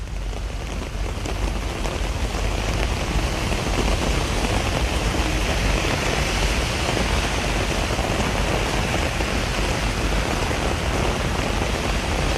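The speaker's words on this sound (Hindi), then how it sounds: "जहां पर इस वक्त बारिश हो रही है" Heavy monsoon rain pouring over Delhi streets, a dense, even hiss of drops on surfaces that stays loud and unbroken throughout with no voices.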